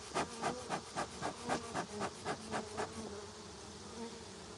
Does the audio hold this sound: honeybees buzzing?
yes